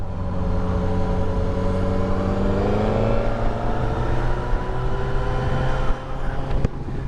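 A 2023 Suzuki GSX-S1000GT motorcycle is ridden on the road, its engine note climbing steadily in pitch under wind rush, then a quick-shifter gear change cuts the drone briefly before it resumes at a lower pitch.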